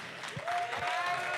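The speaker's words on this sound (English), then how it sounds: "Can we have a round of applause for Purdue again?" Audience applause at a blockchain hackathon closing ceremony for the Purdue team, a steady mass of clapping with a high feedback tone ringing through part of it.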